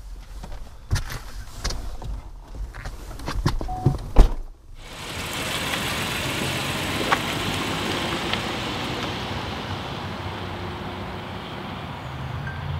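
Several car door thunks and handling clicks, then a car engine starts and runs in a steady low hum with road noise as the car pulls away.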